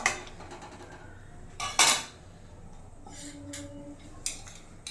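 A cucumber and prawn curry is stirred in a pan, with a few sharp metallic clinks and scrapes of a utensil against the pan over a low background.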